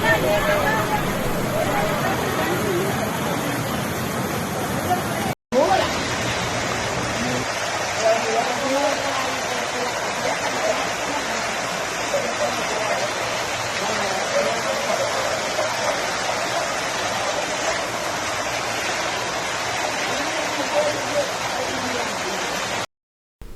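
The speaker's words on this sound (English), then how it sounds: "Heavy rains caused flooding in Najayo," Heavy rain and rushing floodwater in Najayo, San Cristobal, Dominican Republic, a dense continuous hiss with a brief cut near the start and faint background voices.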